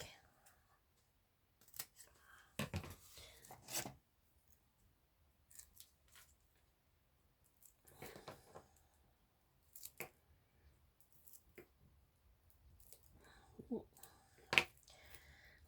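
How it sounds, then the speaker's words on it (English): Scissors snip through a foam pad in short, scattered cuts, quiet and close, separated by stretches of near silence, with a brief sharp click near the end. "Let's cut one for his leg."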